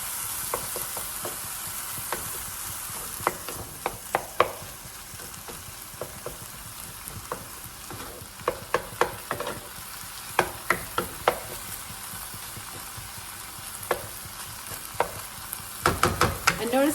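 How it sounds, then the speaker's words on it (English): Ground turkey and onion frying in a pan give a continuous close sizzle, broken by many irregular clicks and scrapes of a utensil stirring, with a louder burst of scraping near the end. "I'm going to just kind of stir that in until the onion starts to become a little bit more translucent."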